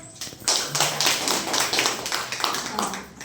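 A classroom of students claps for a teacher at a micro-teaching session, a steady run of brisk, evenly spaced claps from several hands, close and fairly loud.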